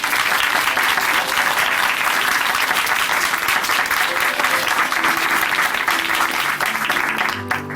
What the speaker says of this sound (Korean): 우리 다시 한번 이진솔 자매님께 감사의 박수 보내드릴게요.